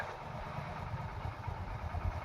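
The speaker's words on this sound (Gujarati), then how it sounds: "नीचे मोहित कुमार और प्रवीण भाई बाइक से खींच रहे देखो देखो ये रस्सी" A motorcycle engine runs steadily at a low, rumbling idle-like pace, close by, with no talking, as the bike pulls a rope hauling a load uphill on a farm.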